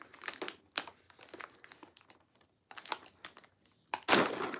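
Crinkly plastic packaging around holiday cookies is torn and wrestled open by hand in several bursts of crackling and rustling. The last tear is the loudest, and short pauses fall between the bursts.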